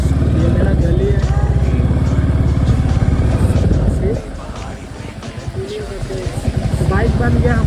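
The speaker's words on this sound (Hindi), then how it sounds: "बाइक बन गया हमारा स्पीड बोट, और हम जा रहे हैं अभी घर।" A motorbike pushes through a flooded street in Tripura. Its engine drones steadily and loudly the whole time, with a dip partway through as water churns around it, and voices are heard over it.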